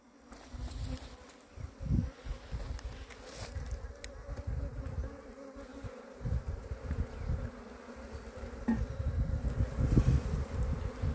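A swarm of Apis honey bees hums in a continuous low drone during a hive rescue, close and steady throughout, with occasional handling knocks and thumps mixed in.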